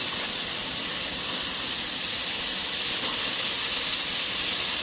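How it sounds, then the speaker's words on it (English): Steady, dense sizzling hiss of four strips of bacon frying side by side in a frying pan, continuous and fairly loud with no talking. "4 strips of bacon into the frying pan"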